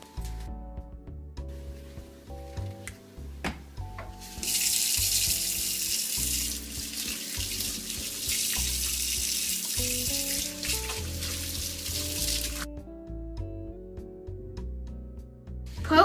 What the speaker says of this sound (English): Put water in a large boiling pot and add a splash of olive oil.